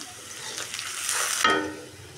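Onion and garlic fry in a pan with cinnamon, black cardamom and bay leaf, giving a brief, close, rising sizzle that swells and then fades over about two seconds.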